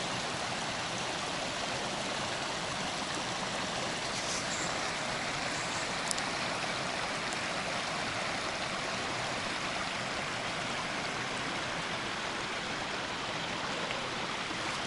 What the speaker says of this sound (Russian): Здесь вот так вот водичка журчит.